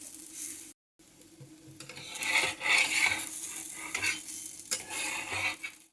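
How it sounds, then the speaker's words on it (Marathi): Maharashtrian thalipeeth roasting on a pan while a spatula presses and scrapes it, a soft sizzle broken by repeated close scraping and clinking strokes, with a brief silent gap near the start. "हे थालीपीठ भाजून घ्यायचं।"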